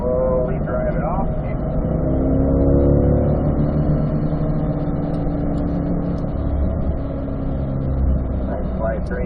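A 2020 Chevrolet Corvette C8 on a race track at a driving academy gives a steady, loud engine drone with slight swells as it coasts and brakes through corners, running continuously under an instructor's talk.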